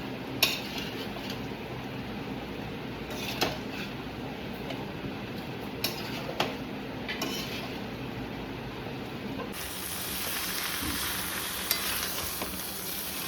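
A spiced mixture is stirred and sautéed in a pan, with soft, continuous frying hiss, scattered scrapes and taps of the spatula, and a fuller, steadier sizzle toward the end.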